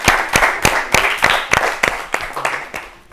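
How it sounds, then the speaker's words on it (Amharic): Children's quiz show audience applauding in a studio, a steady run of about a dozen sharp, even hand claps in a fairly quick rhythm, loud and close, with no other sound over them. "አጨብጭቡ። እሺ አጨብጭቡ።"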